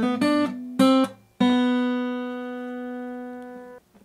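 Acoustic guitar plays a phrase from a song: two short staccato notes cut off by a muting finger, then a single note left ringing for over two seconds before it is damped. Clean and close, with no voices.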